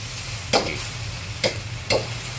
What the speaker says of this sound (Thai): ผัดเครื่องให้เขาหอมก่อนแล้วพี่น้องเด้อมีกะปิ พริก ใบมะกรูดตะไคร้